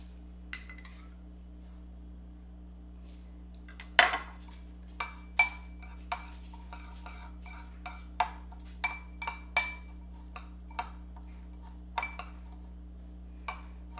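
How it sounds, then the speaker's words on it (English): A metal spoon stirs to coat potato chips in a bowl, producing sparse, irregular bright clinks and taps against the dish over a quiet, faintly humming background, with no speech. "stir it around because I only want to coat this"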